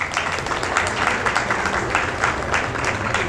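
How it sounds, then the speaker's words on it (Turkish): Audience at a mining industry awards ceremony gives steady, fairly loud applause to welcome a winner, dense clapping sustained throughout. "değerli CEO'muz Mehmet Şevket Erol beyefendiyi alkışlarımızla alıyoruz."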